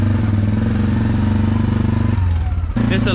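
A 450 XMR ATV fitted with an HMF exhaust rides past, its engine note loud and pulsing with a brief drop in revs before it picks up again.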